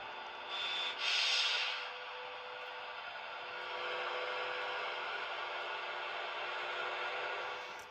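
Steady shortwave hiss from a partly restored 1938 National NC-100XA receiver on a small active loop antenna, with a faint, constant 10 MHz signal tone running through the static and a brief swell of noise early on.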